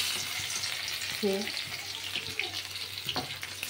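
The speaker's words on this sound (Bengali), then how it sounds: "পাশে আর একটা কড়া বসিয়ে দিয়েছি, শাকটা ভাজবো" Greens (saag) fry in a wok on a home stove beside a simmering fish curry, giving a steady broad sizzle with a brief stir and clatter midway, while a voice speaks faintly.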